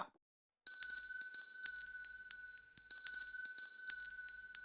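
A doorbell rings at a house's front door in a Hindi sitcom, sounding as a rapid series of bright metallic bell strikes that start after a short silence and keep going, loud and close.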